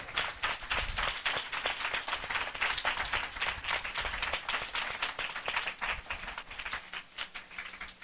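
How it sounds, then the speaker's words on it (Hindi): A worship congregation at a spiritual passion assembly breaks into loud, sustained applause, dense rapid claps from many hands filling the room evenly and close by for the whole stretch. "हम जोरदार ताली से उनका स्वागत करें"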